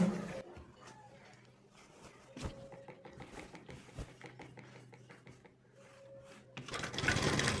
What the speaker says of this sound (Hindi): उसके बाद हमने दूसरी साइड भी सिलाई लगानी है।